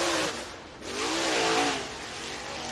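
A dirt late model race car engine roars on the Duck River Raceway Park track in Lewisburg, Tennessee, a loud sustained whine rising and falling as the car passes, with a brief dip before building again.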